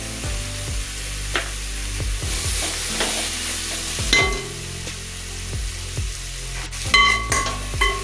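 Medium-sized tomatoes frying in a pan while being stirred, a steady sizzle broken by repeated scraping strokes of a spoon against the pan, close and fairly loud with no voices.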